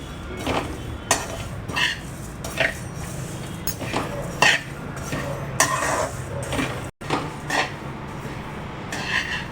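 Ingredients for an herbal decoction being lightly roasted in a pan, with a utensil stirring and scraping, giving intermittent metallic clinks and taps over a quiet background.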